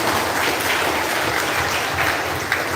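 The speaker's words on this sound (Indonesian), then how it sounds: "tepuk tangan untuk Bapak Ibu." A church congregation at a Sunday Lent Mass marking a couple's fiftieth wedding anniversary claps together, a thick, continuous wash of applause with no pauses.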